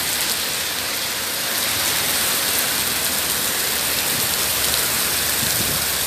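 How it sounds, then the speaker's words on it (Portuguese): Heavy rain pours down steadily in Maringá during a windy storm, a dense, continuous hiss that holds at an even, loud level throughout with no voices. "Chuva agora bem forte"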